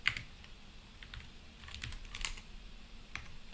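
Someone types on a computer keyboard, producing soft, irregular key clicks in small clusters with a few sharper taps. The sound is faint and close, set against a low steady background hum.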